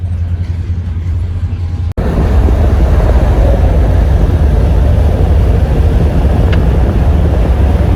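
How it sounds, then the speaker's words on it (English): A heavy rock freight train with all available power on the head end rumbles past in Macon, Ohio: a loud, steady low roar of engines and rolling cars that fills the scene after a brief cut. "The train's coming behind me."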